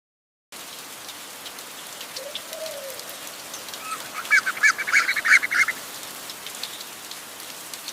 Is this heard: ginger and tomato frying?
no